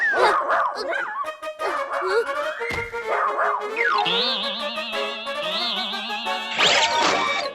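A robot dog in a Chacha Chaudhary cartoon lets out a string of loud, close yips, whimpers and howl-like bends. Springy sound effects and music play alongside.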